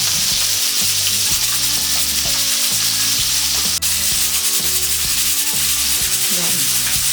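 Carrots fry in hot oil with a steady, dense sizzle throughout, accompanied by rhythmic scraping and stirring from a utensil in the pan.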